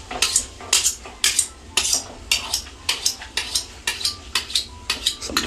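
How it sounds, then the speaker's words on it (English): A kitchen knife drawn again and again through a handheld sharpener: about a dozen crisp, gritty metallic rasps in a steady rhythm, close and fairly loud, with no voices. "Some knife ASMR."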